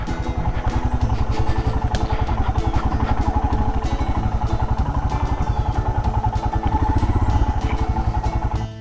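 Royal Enfield Himalayan single-cylinder engine thumps steadily at a low, even rhythm while riding, loud and close with mechanical clatter, running in low gear like a tractor.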